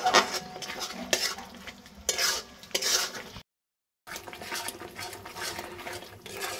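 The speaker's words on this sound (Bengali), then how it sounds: "এবার খুব ভালো করে আমি মশলাটা কষিয়ে নেব।" Spice paste of onion, ginger, garlic and tomato is fried over high flame for a chicken and potato curry, heard as a close sizzle under repeated rhythmic scraping strokes, with a brief silent gap partway through.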